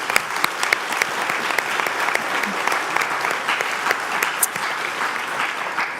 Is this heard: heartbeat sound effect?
no